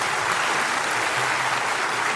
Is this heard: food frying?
no